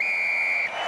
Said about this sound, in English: that will be the final whistle from referee